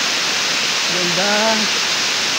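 Strong flowing water at Aruyan Falls, a waterfall at Sablayan Prison and Penal Farm, makes a loud, steady broadband rush throughout, with a brief spoken word rising above it midway.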